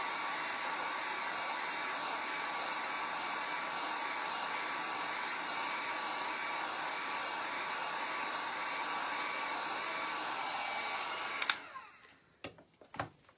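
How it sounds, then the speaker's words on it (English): A heat gun or hair dryer drying a DIY tiered tray craft blows with a steady, even whir for about eleven seconds, then cuts off, followed by a few clicks and knocks. "I'm going to take my heat gun or your dryer."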